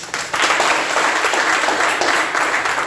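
Church congregation applauding during a service, a loud sustained wash of many hands clapping together without talk.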